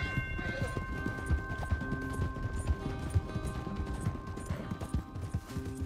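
Horse hooves clip-clop steadily in the Western video game Red Dead Redemption 2, a continuous rhythmic trot with an occasional whinny, set against faint game ambience and low background talk.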